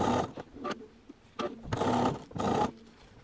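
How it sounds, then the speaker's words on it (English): Sewing machine stitching bias binding along a raw edge for a Hong Kong seam finish, running in three close, loud bursts of fast motor whir with brief pauses between them. "So I'm going to sew right down and finish all this off."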